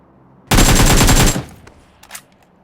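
A burst of automatic gunfire from the PUBG video game lasts under a second, loud and rapid, with a few faint clicks and thumps after it.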